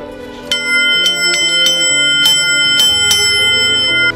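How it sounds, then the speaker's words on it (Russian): A ship's bell brought from Kamchatka is struck repeatedly indoors at a boxing veterans' gathering, about seven sharp ringing strokes at uneven intervals over a steady hum, each leaving a long bright resonance. "С Камчатки вез рынду с корабля."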